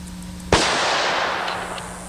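A single sharp, loud gunshot from a small gun fired off a bench rest, cracking once and then ringing out in a long fading tail over a steady hum.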